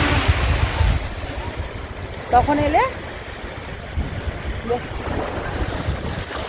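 Ocean waves and wind at Mandarmani beach make a broad steady rushing wash with gusty buffeting, while a voice speaks briefly over it in the middle.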